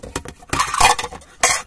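A bowl is set back down after a snack of Rice Squares, with several short clinks and knocks of dishware and utensils close by, a brief rattle of clattering, and a final louder knock as it settles.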